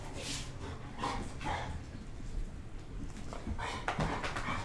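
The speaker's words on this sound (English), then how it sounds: "Puppies." Puppies yip and bark intermittently at a moderate distance during a yoga session, with light whimpering between the barks.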